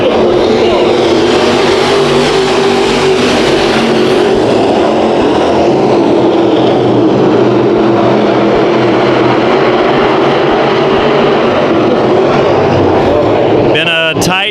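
Sport modified race cars roar around Bakersfield Speedway in a continuous loud engine drone, rising and falling as the field passes, with an announcer calling the race over it.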